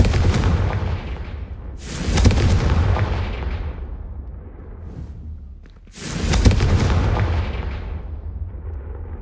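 Two heavy booming explosions from the Confringo spell in the video game Hogwarts Legacy, each a loud blast with a long rumbling decay, spaced about four seconds apart.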